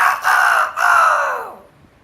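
A person mimics a hen's call with the voice, giving loud, close, drawn-out squawking notes split by two short breaks before trailing off into quiet.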